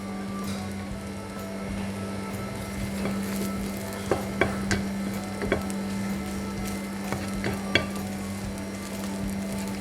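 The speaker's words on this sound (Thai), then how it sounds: "ผัดให้ให้เครื่องแกงสุกหอม" Thai curry paste stir-fried in a pan while cooking kapi khua, a steady close sizzle with scattered scraping stirs and light ticks throughout, no voices.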